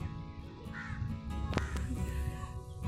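A crow caws several times, fairly close, over a steady low background rumble.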